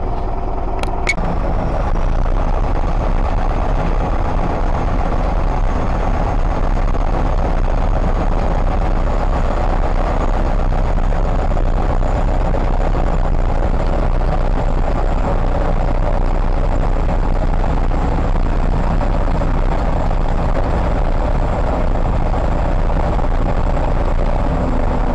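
A B-10 crawler tractor engine running while clearing snow, a loud, constant low drone with a steady rumble that holds unchanged for the whole stretch.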